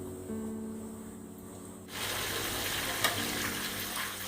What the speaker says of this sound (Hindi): इन्हें हम डीप फ्राई करेंगे। फ्राई हो रही हैं, अच्छे गरम तेल में करेंगे।